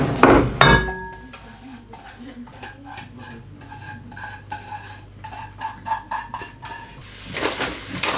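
Melted white chocolate and melted Biscoff go into a large glass bowl in a kitchen. Light clinks and taps of a utensil against glass ring out irregularly throughout, with a few louder knocks at the start and end.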